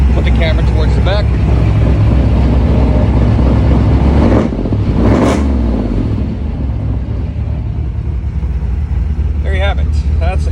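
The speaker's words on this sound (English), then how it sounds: "That's a GMMG exhaust from GM Performance Parts. Sounds killer." A Camaro IROC-Z fitted with a GMMG exhaust from GM Performance Parts revs up from idle, a loud, deep rumbling roar that rises and swells around the middle, then settles back into a steady heavy drone, heard close from behind the car.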